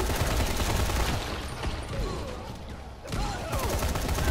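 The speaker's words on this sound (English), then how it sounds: "Someone shot someone with a shotgun" Gunfire in a video game firefight, a dense, continuous barrage of shots with a brief dip near three seconds before the volley resumes loud and close.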